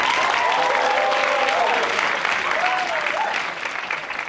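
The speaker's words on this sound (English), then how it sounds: "an extra round of applause." A theatre audience at a murder mystery show breaks into loud, dense applause that holds strong, then thins and fades toward the end, with a few voices and whoops rising over the clapping.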